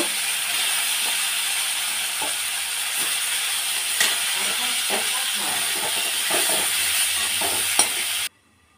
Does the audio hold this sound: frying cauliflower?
yes